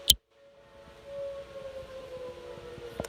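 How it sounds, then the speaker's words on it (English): A civil defense tornado siren sounds during a scheduled test on a farm, a steady distant wail holding one sustained tone for several seconds after a brief sharp knock at the start, with no voices over it. "We're gonna get started just as soon as our tornado siren tests go off"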